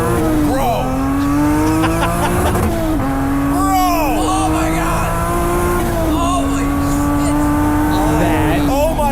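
A small car with an 86-inch wheelbase accelerates hard through five gears. The loud engine note climbs steadily, with clear drops at each gear change, and excited voices talk over it.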